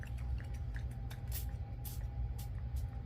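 A nearly empty spray paint bottle sputters out several short, uneven bursts while grunging up rusty-looking metal plates, each hiss close and fairly quiet over a steady low background rumble.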